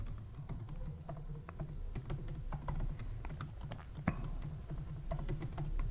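A password being typed on a computer keyboard, with quick irregular clicking keystrokes close by at moderate volume, no speech.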